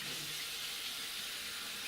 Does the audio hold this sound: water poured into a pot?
yes